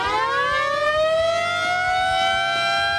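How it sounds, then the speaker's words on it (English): A hidden car siren mounted behind a truck's grille wails loudly and steadily, its tone sweeping upward over about three seconds with no talking. "putting a siren where it could be seen wouldn't go. So it's just behind the grill here."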